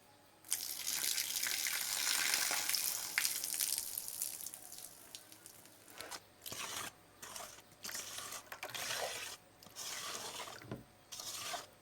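Water soaked with marl clay is poured out, gushing and splashing steadily for several seconds, then continuing in shorter bursts of pouring with brief pauses between them, fairly close.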